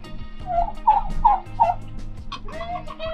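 Several loud, wobbling gobbles sound one after another from nearby turkeys, with chickens and other farmyard fowl noises continuing underneath.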